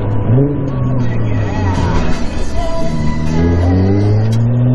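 A loud, booming Nissan GT-R engine drones inside the cabin on a race circuit, its pitch climbing and dipping as it revs, with people talking over the noise.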